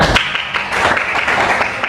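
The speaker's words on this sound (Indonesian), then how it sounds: "Terus kami tepuk tangan buat Tina" Pupils in a classroom clap loudly and close for a student, a short burst of fairly rhythmic claps with no talking.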